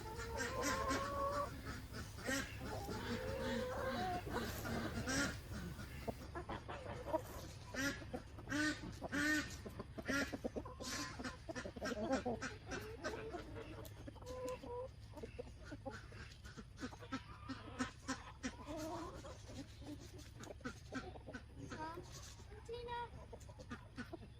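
Geese honk and ducks quack in a busy, overlapping chorus, some calls close and loud, others farther off, with occasional talking mixed in.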